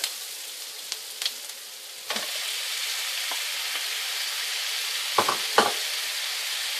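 Onions fry in a pan for butter chicken, giving a bright, steady hiss of sizzling oil. A few scraping stirs and clicks break through, with no voices.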